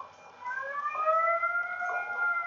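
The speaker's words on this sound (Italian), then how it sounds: "Ho fatto scattare una sirena, ragazzi." A siren triggered in the Taz: Wanted video game, set in a cartoon mine, wails with rising, wavering tones at moderate loudness and no talk over it.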